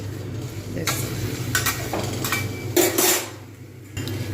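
Cauliflower pieces tip into a hot pan with dried chilli tempering and start sizzling, with clattering, scraping and metallic knocks of a spatula against the pan up close, over a steady frying hiss.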